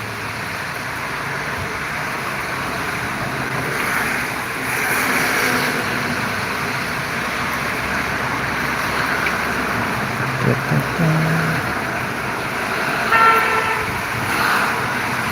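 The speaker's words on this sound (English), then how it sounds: "There we go, it's just cars." Cars passing outside on a rainy afternoon, a steady wash of road and traffic noise with a couple of brief horn toots, distant and continuous with no talking.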